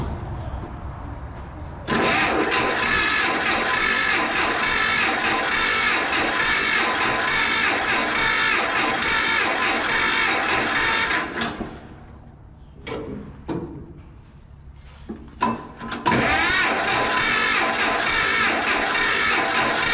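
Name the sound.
old 520 engine being started with choke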